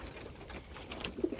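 Pigeons in a coop on a fine day give soft, low coos, faint and close against a quiet outdoor background.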